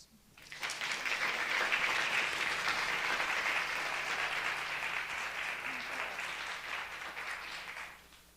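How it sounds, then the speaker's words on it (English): An audience applauds panelists at a panel discussion, the clapping swelling in quickly after a short pause, holding steady and full, then tapering off near the end. "please give a round of applause for our panelists"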